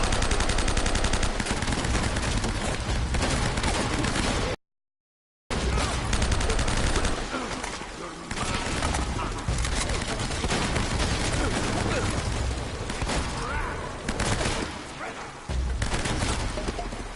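Rapid gunfire rattles through a firefight in the video game Uncharted: dense, sustained bursts of automatic shots, broken by one short silent gap and continuing loudly to the end.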